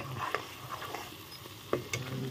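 Spices sizzle in hot oil for a desi-style potato mutton curry, with steady frying crackle and a few sharp scrapes and knocks of stirring close by.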